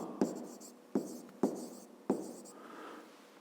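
Pen strokes on paper during a 5th-grade maths exercise, four distinct sharp scratching taps spaced unevenly, each fading quickly, with a softer trailing scrawl at the end, close and quiet.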